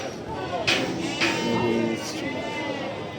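Goats and sheep bleat at a livestock market in Barda, a few short calls rising over a steady murmur of crowd noise and nearby chatter.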